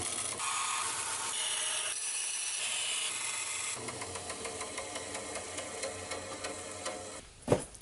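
A metal lightsaber tube is cut at an angle, giving a steady, dense mechanical grinding that shifts partway through into a rougher, pulsing cut, ending with a sharp clack.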